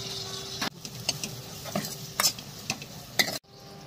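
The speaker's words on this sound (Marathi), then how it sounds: "आता एक बारीक चिरलेला टोमॅटो त्यातच परतून घ्यायचा आहे." Finely chopped onion and tomato sauté in a pan with curry leaves for dal tadka, a quiet sizzle broken by several sharp spatula scrapes and stirs, close and brief, with no speech.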